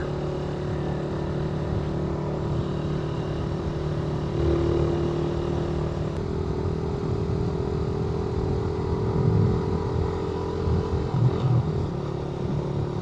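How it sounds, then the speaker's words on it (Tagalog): A Suzuki Raider motorcycle climbs a steep road near San Miguel, Tarlac, its engine droning steadily throughout with slight revving rises and wind noise, and no speech. "Ang ganda ng hatak ng Raider."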